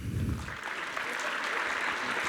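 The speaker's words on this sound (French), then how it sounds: "On peut applaudir Airbus." Audience at a tech conference opening keynote applauding, a dense, even wash of clapping that holds steady for the whole stretch, with a voice briefly audible at the start.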